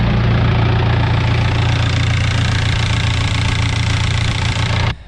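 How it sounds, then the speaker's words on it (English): A car engine runs steadily close up, its deep idling drone carrying a rough, chattery clatter from a noisy bottom end, continuous and loud until it cuts off abruptly at the end. "The bottom end on this is very noisy. It's not knocking, but it's chattery."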